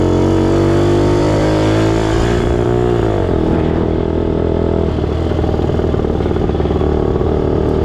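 A rare Honda motorcycle engine runs loud and close, idling with a steady rumble that shifts in pitch as the revs change partway through.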